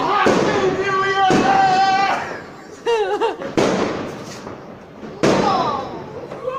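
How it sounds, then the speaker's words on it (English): New Year's Eve fireworks in London, several loud booming bursts and crackles echoing at intervals, with people talking and exclaiming over them. "watching the fireworks."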